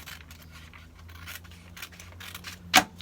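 Scissors cutting a paper bodice pattern, heard as soft, close rasping snips that end in one sharper, louder cut, with no talk.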